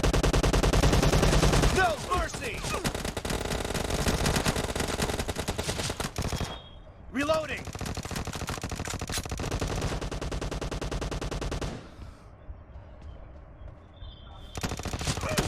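Rapid automatic gunfire from the video game PUBG Mobile, loud continuous bursts of machine-gun fire with short pauses between volleys, close and dominant throughout with no talking over it.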